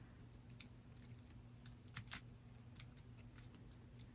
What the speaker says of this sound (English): it does indeed sound like some things are actually clicking into place